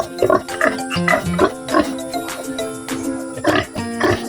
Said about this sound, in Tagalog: 9 na peraso yung anak ng baboy